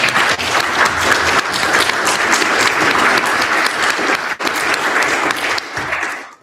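An audience at the close of a local speaker-series event in Vancouver's Dunbar neighborhood gives a sustained, loud round of applause for the speaker. Dense clapping holds steady for several seconds, then thins and fades out near the end.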